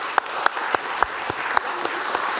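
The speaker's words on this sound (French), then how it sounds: "je vous invite, messieurs, dames, à l'applaudir" An audience at a book fair prize ceremony applauds the winner of the Grande Loge de France award, steady close clapping with a few sharp, distinct claps standing out over a dense wash of hands.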